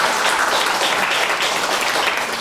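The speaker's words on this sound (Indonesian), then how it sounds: "Oke, tepuk tangan dulu." An audience at a seminar talk bursts into dense, steady applause, loud and close, filling the whole brief moment without any voices.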